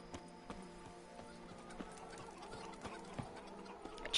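The horse Roach in Witcher 3 gives steady clip-clop hoof steps and a soft whinny, close and fairly quiet, with faint bird chirps behind and a louder snort at the end.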